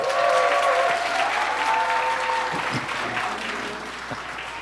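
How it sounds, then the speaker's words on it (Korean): A church congregation at a spring fellowship gathering claps loudly in welcome for their pastor, a steady full round of applause that slowly fades, heard from among the crowd. "박수!"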